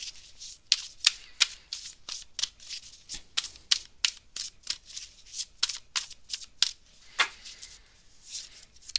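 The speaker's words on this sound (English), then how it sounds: "let me just go and take a couple of cards out over here" Tarot cards shuffled by hand at close range, giving a dense series of crisp riffling swishes and slaps in an uneven rhythm with short pauses between bursts.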